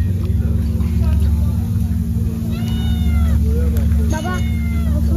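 A cat meows a few times, short plaintive cries heard over a loud steady engine hum and low rumble at a roadside eatery, with a voice nearby.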